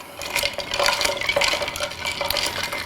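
A spoon swirls Bloody Mary mix in a glass or pitcher, producing close liquid sloshing with light clinks and scrapes that rise and fall in short strokes over nearly three seconds, with no talking.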